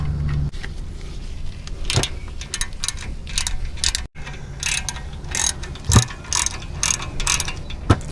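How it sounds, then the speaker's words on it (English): A breaker bar and socket loosen a 17mm lug nut on a 2003 Toyota Tacoma, giving a run of close metallic clicks and ratcheting clanks with a few sharper knocks, loud and near, with no talking. "so we can break that loose using a breaker bar"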